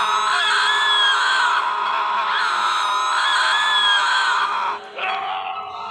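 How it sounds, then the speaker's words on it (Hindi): Loud, sustained screaming from several voices in a horror story, shrill and continuous, close and overwhelming for nearly six seconds with a brief dip near the end. "संदूक खोलते ही जोर जोर से चिल्लाने की आवाजें आने लगी।"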